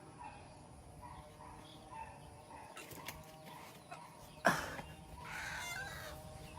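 Faint chickens cluck and call in the background, with a sharper squawk partway through, in a quiet outdoor setting.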